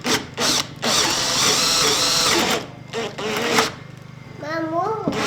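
Power drill boring through a wooden front door for an 1800s rim lock, a loud close whir running several seconds then dropping off, followed by brief talk from a child and adults.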